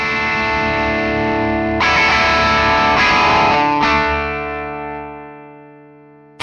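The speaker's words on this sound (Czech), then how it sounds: "Tady je slyšet, že zkreslení je krásně použitelný" Saturated overdrive from a Dirty B Hinds Mastodrive signature pedal, with drive at maximum: loud sustained distorted guitar chords restruck twice, then ringing out and decaying to near silence.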